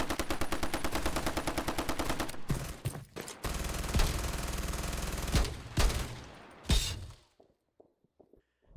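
A Browning machine gun rattles out a dense, loud stream of rapid automatic fire in a stop-motion battle scene, broken by short gaps and heavy bursts, ending in scattered faint impacts and near silence.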